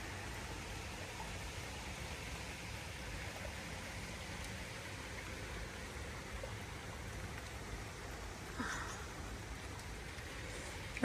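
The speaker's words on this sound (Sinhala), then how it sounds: "හොඳටම වහිනවා" A continuous, even hiss of rain falling steadily, with no voices, unchanging throughout.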